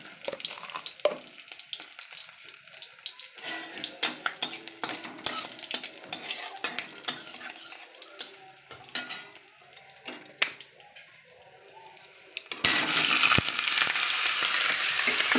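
Nigella seeds and green chilies fry in hot oil with a crackling sizzle and stirring clatter in the pan, then a sudden loud, dense burst of frying near the end.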